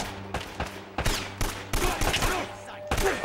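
Gunfire in the video game Uncharted: Drake's Fortune, with bursts of rapid shots and scattered single blasts cracking repeatedly over a few seconds, loud and close, with brief pauses between volleys.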